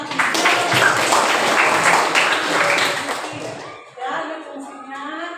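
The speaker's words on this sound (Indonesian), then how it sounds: "Tepuk tangan lagi." Classroom applause, with pupils clapping loudly and fairly steadily before it fades out, followed by a brief moment of children's talk.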